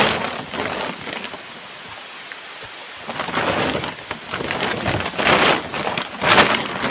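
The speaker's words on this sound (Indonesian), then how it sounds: "Saya bersyukur banget hujannya nggak langsung deras begitu, hanya gerimis" Steady rain patters in a forest, a light drizzle falling on leaves and surfaces with shifting intensity and a couple of louder spells, close by and with no voices.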